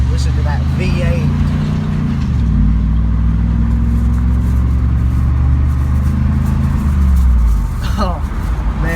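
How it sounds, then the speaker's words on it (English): A rebuilt V8 in a 1997 Camaro Z/28 drives along, its deep engine drone rising and dropping through revs with a loud, continuous rumble from inside the car, with a voice occasionally over it. "Listen to that V8."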